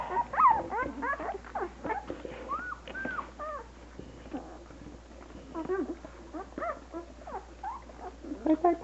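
One-week-old puppies squeak and whimper continuously in a dense, overlapping chorus of thin high cries, close and moderately loud, with no talk.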